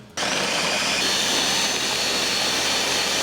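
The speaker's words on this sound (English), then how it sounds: "we're gonna put it right into the blender." A loud, steady motorized whir starts abruptly and runs without pause, a dense mechanical roar close by, a blender spinning at high speed blending broth.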